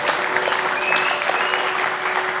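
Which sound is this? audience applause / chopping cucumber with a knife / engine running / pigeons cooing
audience applause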